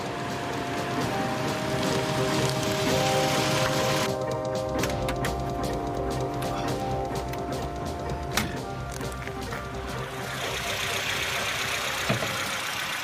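An M10 inline four-cylinder racing car engine runs steadily with a buzzy mechanical drone and a few sharp clicks, holding a constant idle-like pitch throughout.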